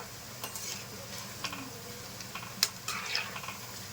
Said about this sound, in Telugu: పిండి పునుగు ఇలా కలుపుకుంటూ ఉంటే అన్ని పక్కల ఈవెన్గా వేగుతాయి పునుగులు